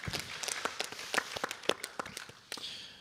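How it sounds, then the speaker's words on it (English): Scattered applause from a small town hall audience on education, a handful of sparse, uneven claps and a few louder individual hits, fairly quiet and thinning out over a few seconds. "If we could give a round of applause to all those who volunteered."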